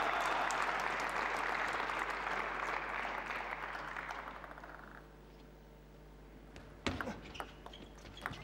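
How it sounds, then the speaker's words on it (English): Applause rings out for a point in a table tennis match at the 2013 Russian Open, a dense clatter that gradually thins and fades over several seconds before a couple of sharper knocks near the end. "Applauded by the coach, Alexander Petkovic."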